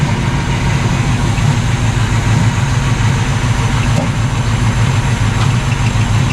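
A 1978 Chevy C30 truck, parked for years, idles steadily with a deep, even low rumble and a constant close engine drone, no voices over it.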